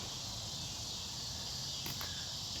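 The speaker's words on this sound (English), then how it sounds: "Here are the cicadas." Steady high-pitched insect buzzing fills the air, a continuous droning chorus like cicadas, with faint background rustle and no talking.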